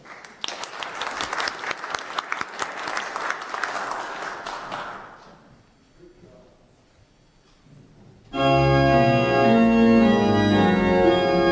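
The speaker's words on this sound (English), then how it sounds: "I waited until the end to do the clapping" A church congregation claps together at the close of a Saturday vigil Mass, a dense burst of applause that fades out, after which an organ and singing come in loud and full.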